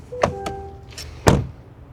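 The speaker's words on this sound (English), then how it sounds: "We're going to start with the sound of the closing door." A 2026 Chevy Tahoe LS door swings shut with a solid thunk, preceded by a couple of light latch clicks, close and alone.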